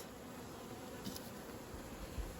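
Honey bees swarming around an opened beehive during an apiary inspection, a continuous soft buzzing drone, faint and steady with no talking.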